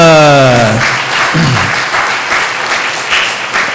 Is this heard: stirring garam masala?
no